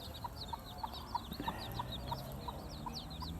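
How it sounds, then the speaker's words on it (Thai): Soft, steady clucking from several small chickens, with quick high chirps from chicks layered over a low rumbling background. "มาดูไก่เจ้ ดูลูกไก่เจ้ว่า โตขนาดไหนแล้ว"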